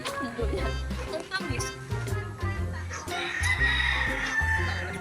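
Chickens and a rooster on a farm cluck and crow in short repeated bursts close by, mixed with people talking and laughing.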